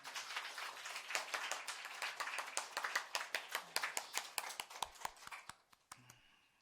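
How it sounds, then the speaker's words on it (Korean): A church congregation claps in encouragement, starting as a scattered patter and settling into fairly rhythmic, moderately close hand claps that trail off near the end. "다 같이 우리 격려의 박수하겠습니다"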